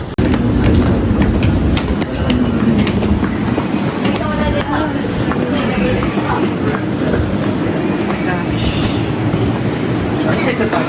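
A train at a station in Japan rumbles loudly and continuously, with rail clatter, intermittent wheel squeal and faint voices in the background.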